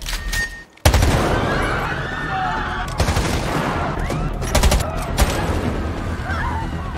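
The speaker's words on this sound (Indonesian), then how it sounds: "Melihat Meg yang tiba-tiba saja membrutal menembaki siapa saja yang ada di dekatnya" Film gunfire as a possessed woman shoots at people nearby, a sudden loud barrage of rapid shots and booms that follows a brief quieter moment, with screams and shouting mixed into the dense chaotic firing.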